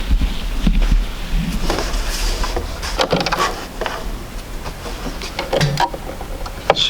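Sewing machine stitching two quilt units together at a 1/4 inch seam, a steady close mechanical whir with clicks and small bumps running throughout.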